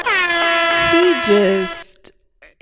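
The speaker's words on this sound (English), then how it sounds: "Air horn. Air horn." A loud, blaring air horn holds one steady tone for nearly two seconds, then cuts off into a few faint clicks.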